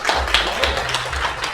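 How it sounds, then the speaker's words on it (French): A convention audience at a voice-actor panel claps for the guests, a short burst of dense applause with sharp individual claps, fairly close and loud, along with some faint crowd voices. "On va les applaudir très très fort."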